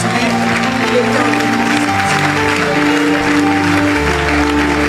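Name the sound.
church congregation applauding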